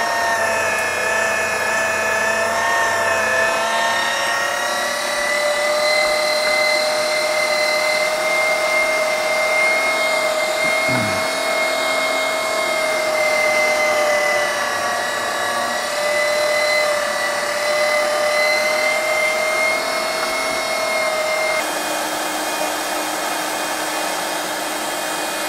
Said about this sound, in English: I'm grinding it through a fine plate.